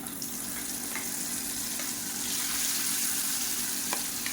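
Ground chutney sautés in hot oil with mustard seeds, urad dal and curry leaves in a pan, a steady dense sizzle and crackle with a few sharper pops, close and continuous.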